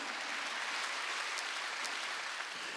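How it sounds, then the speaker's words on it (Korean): A church congregation at a Wednesday worship service claps together in a steady, dense wash of applause that fills the room evenly, moderately loud and with no voices rising above it. "박수치라"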